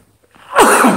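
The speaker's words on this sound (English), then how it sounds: "I have to sneeze." A single sharp human sneeze bursts out loud and close after a brief quiet intake, in the middle of a spoken class.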